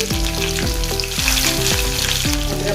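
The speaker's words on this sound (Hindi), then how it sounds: "अभी इसमें हम लहसुन की कलियां डालेंगे बारीक कटी हुई, हरी मिर्च डालेंगे कटी हुई" Finely chopped garlic cloves and chopped green chilies sizzling loudly in hot oil with cumin seeds in a pan while cooking aloo matar sabzi, a dense continuous frying crackle, close up, with some background music.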